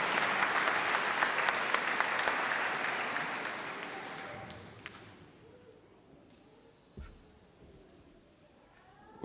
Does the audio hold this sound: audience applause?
yes